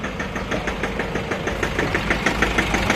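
A rough-running Toyota 1KD diesel engine that smokes heavily idles close by, with a loud, uneven knocking clatter pulsing steadily through the whole stretch and no voices.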